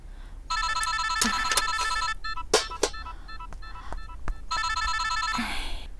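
Telephone ringing on an outgoing call, two bursts of electronic ringback tone separated by a pause with some clicks and handling noises, moderately quiet with no talking.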